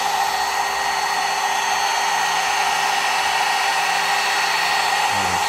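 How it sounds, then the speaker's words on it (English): A CNC spindle motor runs steadily at a constant high whine, loud and close, with no change in pitch and no talking, and a brief low thump near the end. "And the spindle is running quite nicely. It's not too loud"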